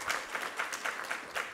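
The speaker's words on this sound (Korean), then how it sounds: "우리 하나님께 감사와 영광의 박수 올려드리겠습니다" A church congregation claps during a Sunday worship service, with rhythmic unison clapping in about six regular beats, moderately loud and fairly close, and no speech over it.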